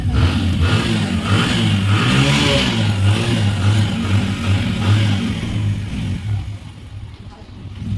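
A car engine revs loudly nearby with a strong rising and falling hum, holds steady, then gradually fades and quiets toward the end.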